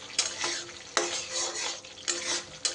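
Spices with a peanut and poppy seed paste being stir-fried in a hot pan: a steady sizzle and frying hiss, broken by a few sharp scrapes of a spatula stirring against the metal.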